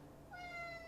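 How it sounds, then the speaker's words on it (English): A cat lets out one short meow, faint and somewhat distant, alone against a quiet background. "That's my cat."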